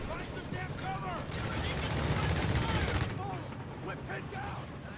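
A strafing run in Company of Heroes 3 lays down a dense, sustained burst of rapid gunfire for about three seconds, followed by quieter battle noise, with a commentator talking throughout.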